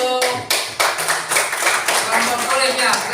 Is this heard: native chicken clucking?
no